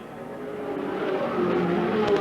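Speedway race cars roar around a dirt track at Latrobe Speedway in Tasmania, their engines building steadily in a continuous, rising drone as the field passes, loud and without any voices.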